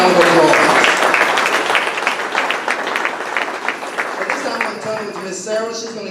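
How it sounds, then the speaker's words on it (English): A room full of people gives a loud, sustained round of applause for group captains at a community gathering, dense clapping that gradually eases while a voice speaks over it. "you should give yourself a huge round of applause"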